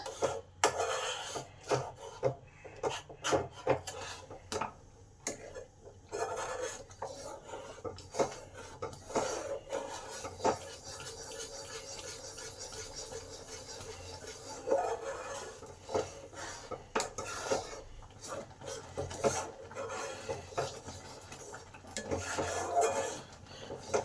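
Mango phirni being stirred in a pot over low-medium heat, with quiet irregular scraping and rubbing of a spoon against the pot, soft and close, in uneven bursts.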